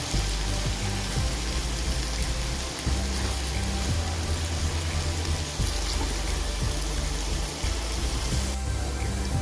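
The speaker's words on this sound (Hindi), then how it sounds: "तवा चिकन पुलाव के लिए अब हम चिकन को तवे पर रखेंगे। चिकन को हम उलट पुलट करके पका लेंगे।" Chicken pieces coated in yogurt marinade sizzle on a hot tawa griddle, a loud, continuous crackling hiss that stays steady throughout with no talking over it.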